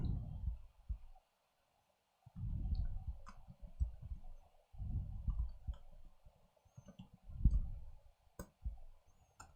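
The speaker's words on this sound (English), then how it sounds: "Let's type this out." Typing on a computer keyboard while doing a Python coding exercise, heard as faint, scattered key clicks in loose bursts over a low rumbling background, quiet and with no speech.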